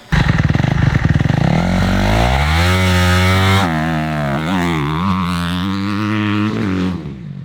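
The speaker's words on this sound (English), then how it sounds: "you could tell that clutch was let out way slower because the bike sounded different" A dirt bike engine roars loudly up close while riding through a deep sand track in Florida, revving high then settling into a steady, rising and falling drone as the clutch is let out slowly.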